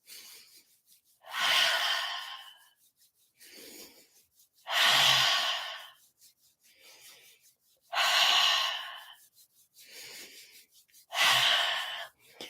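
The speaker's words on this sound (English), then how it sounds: "So keep that breath going." Deep, slow breaths during a meditation exercise, each long rushing inhale or exhale recurring about every three seconds, close and clear with quieter softer breaths between them.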